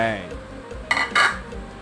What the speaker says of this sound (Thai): ปิดฝาครับ รอน้ำเดือด